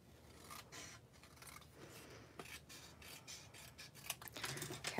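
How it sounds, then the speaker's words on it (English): Scissors trim a paper card sentiment, a soft continuous rasping cut with a few sharper snips toward the end, close up and very faint. "So I'm going to just take this and just trim it right to the end."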